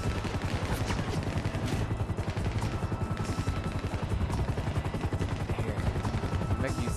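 Gunfire in a GTA V firefight, with rapid continuous bursts crackling steadily throughout, dense and fairly close, while a player's voice talks over the shooting at times.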